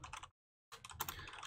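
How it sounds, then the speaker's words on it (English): Fingers click over a computer keyboard with a slightly sticky Y key in quick bursts, a brief pause splitting two flurries of close, crisp keystrokes. "My Y key on my keyboard is a little sticky."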